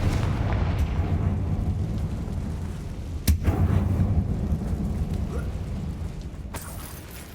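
Confringo fire spell blast in Hogwarts Legacy, set in an abandoned mine: a sharp burst and pop stands out over a continuous deep rumbling roar, loud and near, with a second crack later and nobody speaking.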